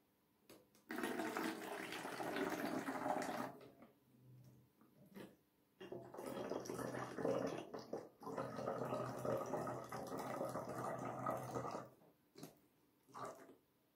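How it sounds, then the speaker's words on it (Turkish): Water poured into a container while mixing a homemade disinfectant, a close gurgling splash in two bursts of several seconds with a short pause between, and brief quiet drips and knocks after. "suyumuzu döküyoruz."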